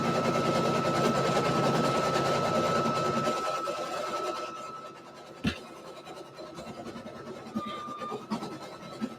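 An embroidery machine stitches out a shirt sample design, a steady mechanical whir that runs loudly at first, then stops and gives way to quieter handling clicks and light rustling.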